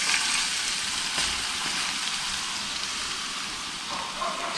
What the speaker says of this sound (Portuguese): coloquei tudo. E tá fritando aqui.